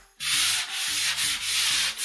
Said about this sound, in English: you can take fine grit sandpaper or a fine grit sanding block and just lightly move it over the surface